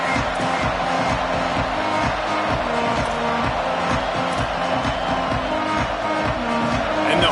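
A home crowd at a TCU Horned Frogs college football stadium roars in a continuous loud wash of cheering, while a brass band plays a rhythmic fight-song pattern underneath throughout.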